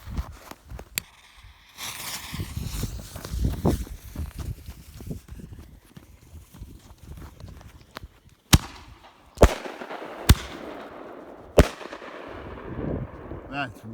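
Hell's Shells Pyro Demon firework shells, nearly a full box, are lit and launched outdoors on a windy night, giving four sharp loud bangs in the second half with crackling decay between them, after rustling and movement earlier.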